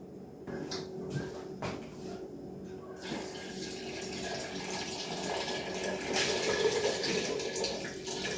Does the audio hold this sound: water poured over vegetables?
yes